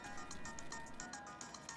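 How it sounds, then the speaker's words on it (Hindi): A mobile phone ringtone plays in a repeating pattern of bright tones over a low background hum, steady and fairly faint, with no one speaking over it. "तेरा फोन बज रहा है बे।"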